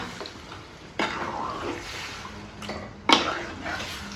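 Chicken curry being stirred in a pot brings soft wet churning with a few sharp utensil clinks and scrapes against the pot, three distinct knocks standing out over low kitchen background.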